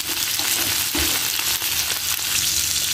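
A crab fries in a pan of hot oil, giving a dense, constant sizzle with a few stirring clunks, close up and with no talking.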